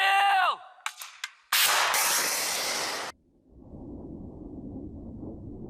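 A missile launch: a sharp gunshot-like bang with a bright burst, followed by a sustained loud rushing blast that cuts off, then a lower rumbling noise continuing in the distance.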